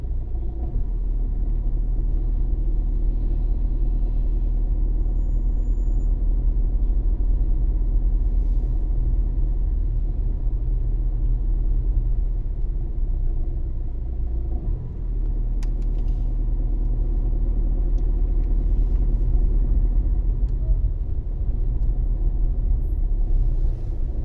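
Heavy, slow-moving road traffic in Istanbul produces a constant deep rumble of car engines from inside a vehicle, steady and loud with slight swells and no voices.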